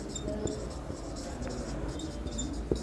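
Pen or marker writing during a class 8 maths lesson on quadrilaterals, soft continuous scratching strokes with small taps, faint and steady, with no clear talk over it.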